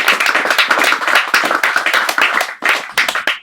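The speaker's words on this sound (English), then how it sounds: "Let's give him a round of applause." An audience at a poetry reading claps steadily and fairly loudly, a dense patter of many hands that briefly dips before resuming.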